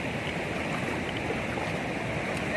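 Water pours steadily from the end of a broken bridge over the Krishna River near Mhaishal dam. It makes a continuous, even rushing wash with no breaks and no voices.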